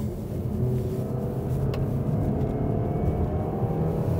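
A 2023 Mazda CX-30 in sport mode accelerates with a steady low engine drone and road rumble heard from inside the cabin, loud and continuous.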